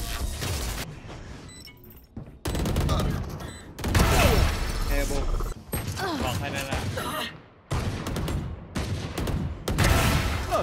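Rapid bursts of gunfire from a Valorant ranked match crackle loud and close, broken by abrupt pauses, with sharp mechanical weapon sounds and game voice callouts between volleys.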